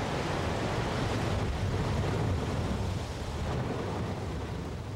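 Rough ocean surf roars in a steady, dense wash, with heavy waves breaking along the coast and wind buffeting the microphone, loud and continuous with no voices.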